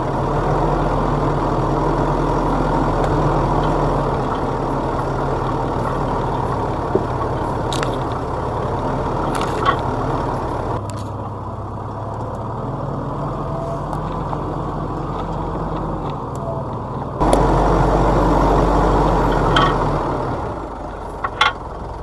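Off-road vehicle fitted with Delium MT Terra Raider 255 tyres rolls over a rocky track, its engine a steady close drone broken by occasional knocks and clatters, easing briefly before swelling again near the end.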